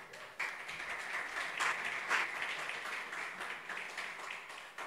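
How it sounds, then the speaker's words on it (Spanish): A church congregation at a Rios de Vida family service applauds first-time visitors, a steady wash of many hands clapping at moderate distance, even and unbroken from start to finish. "un aplauso para los que vienen por primera vez"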